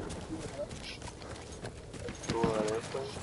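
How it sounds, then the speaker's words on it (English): Video game horse hooves clip-clop in a steady trotting rhythm beneath game sounds and a voice talking, moderately close. "Watch out, there's a horse up here, I think."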